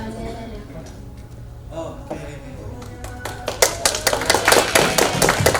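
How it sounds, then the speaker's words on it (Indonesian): An audience at a kelurahan housing-database verification workshop claps for Fauzia, starting with scattered taps and swelling into louder, denser clapping over background voices. "boleh kita kasih tepuk tangan yang lebih kencang lagi untuk Fauzia"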